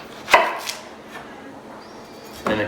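Knife cutting through an onion on a cutting board, with a couple of sharp chops near the start and another at the end, close and crisp, with quiet pauses between.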